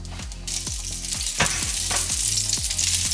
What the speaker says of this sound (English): we're going to put in our oil first, along with our broccoli.